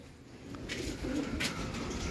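Pigeons at a homing loft during a race return, cooing and fluttering faintly at mid distance over steady outdoor background noise, with brief bursts of wing movement.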